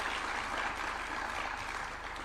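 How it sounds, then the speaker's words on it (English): A crowd at the unveiling of the University of Nairobi innovation park clapping for the innovators, thick continuous applause from many people, steady and fairly loud throughout. "Let's give them another hand clap."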